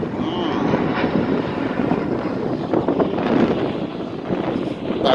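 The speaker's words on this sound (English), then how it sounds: "Battling the wind here. I got some wind." Strong wind buffets the camera microphone outdoors, a loud continuous low rumble with gusty swells that never lets up, close and dominating, with no clear talk over it.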